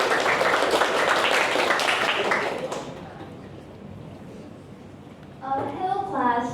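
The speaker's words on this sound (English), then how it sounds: "a round of applause, please." A classroom audience applauds for a presenting team, a dense, fairly loud wash of clapping for nearly three seconds that then dies away; a speaker begins talking near the end.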